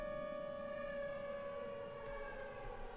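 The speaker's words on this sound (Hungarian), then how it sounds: "Ez a sziréna." Civil-defense style siren from the Minecraft Local Weather & Stormfronts mod, a steady layered wail holding constant pitch for the whole stretch, fairly quiet with no talk over it.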